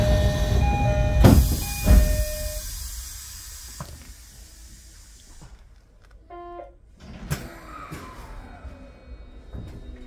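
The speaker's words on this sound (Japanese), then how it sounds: "2番線電車が発車いたします。" Toyo Rapid Railway commuter train, a rapid service through to the Tokyo Metro Tozai Line bound for Mitaka, pulling out of platform 2 at Toyo-Katsutadai station, hissing air and rumbling, then a quieter stretch with a brief chime-like tone pattern and renewed rolling noise.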